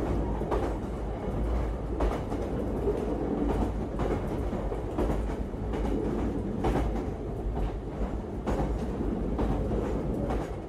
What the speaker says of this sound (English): replaced by another underground train, this time a souped-up district line set from the 1970s